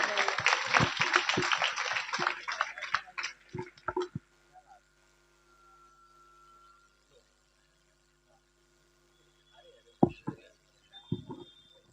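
Audience at a poetry recital at a spring festival gathering in a school claps in a burst of applause for the first few seconds, then trails off into scattered claps and near silence, with a few isolated knocks later.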